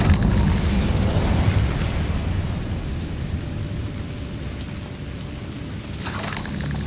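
Incendio fire spell cast in the video game Hogwarts Legacy: a loud, sustained roaring whoosh of flame that fades slightly, then flares again near the end.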